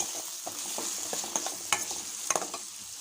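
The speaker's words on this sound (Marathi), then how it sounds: "आपण कांदा टाकूया इथे हिरवी मिरची थोडासा टोमॅटो पाच मिनटं छान परतून घेऊया" Onion, green chili and tomato fry in a pan under a continuous crackling sizzle, broken by repeated scraping and tapping strokes of a spatula stirring near the microphone.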